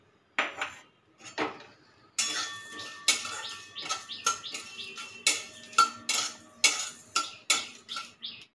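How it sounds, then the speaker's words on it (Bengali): Poppy seeds, radhuni, five-spice and dried chillies dry roasting in a pan over a gas flame, heard as a steady series of sharp scraping and clinking strokes of a metal spatula against the pan, close and fairly faint with no talk. "গ্যাসটা অন করে এইগুলো আমি শুকনো খোলায় ভেজে নেব।"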